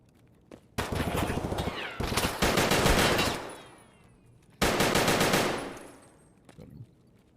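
Automatic gunfire in the Escape from Tarkov video game, loud, with two long sustained bursts that each ring out and decay, and a few faint single shots around them.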